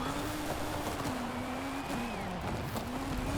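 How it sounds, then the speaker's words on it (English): Rally car driven in the Forza Horizon video game, a steady engine drone that rises and dips with gear and throttle changes, heard alone at moderate level. "I really enjoy the rally driving though in this game."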